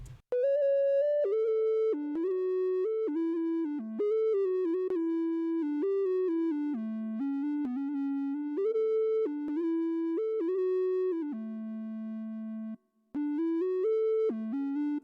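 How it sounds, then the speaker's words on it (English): A slightly detuned sine-wave synth lead, built from a 3x Oscillator in FL Studio, plays a clean, steady stepwise melody alone, with one brief gap near the end. "I actually made this lead from scratch in a 3x oscillator, and I just chose a sine wave, messed with the detune a little bit"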